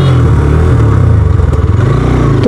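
A Hero Xtreme 160R 4V motorcycle engine, a 2024 model, revs loudly and steadily while the bike is ridden in third gear. The pitch wavers slightly, with no voices over the drone.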